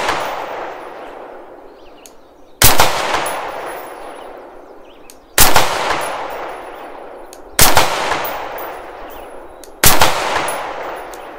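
Five loud rifle shots, evenly spaced a couple of seconds apart, each sharp crack ringing out with a long decaying tail, fired at a target during a cold-to-warm barrel accuracy test at the range.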